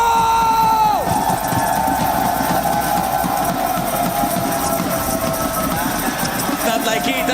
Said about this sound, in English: we do have quite a bit of crowd presence